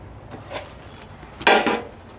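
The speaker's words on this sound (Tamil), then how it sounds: "இப்போ இது மூடி போட்டுடுவோம்" A metal lid clanks onto a cooking pot of mushroom biryani, one soft knock followed by a louder ringing clatter as it settles, close by in a quiet kitchen.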